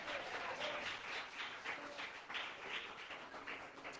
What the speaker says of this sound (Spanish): Dele fuertes alabanza y aplauso al Rey de la Gloria.